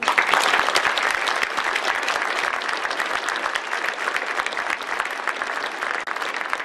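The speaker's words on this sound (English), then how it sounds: "Peterman a round of applause." A university lecture audience applauds guest speaker Ken Peterman at a distinguished speaker event, dense sustained clapping filling the room evenly for several seconds, with no voices heard above it.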